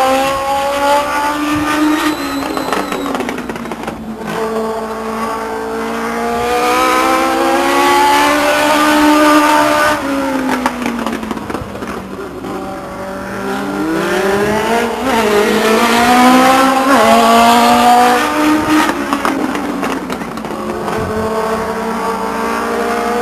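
A Legends race car circles Stockton 99 Speedway, its engine sweeping up and down in pitch as it runs through the turns and down the straights, loud and steady throughout, with no other sounds.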